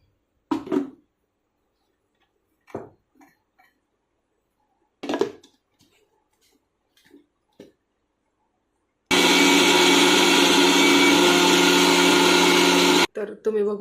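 A kitchen mixer grinds soaked rice into idli batter, a loud steady whirring drone of about four seconds that cuts off abruptly, following stretches of quiet speech with no machine running.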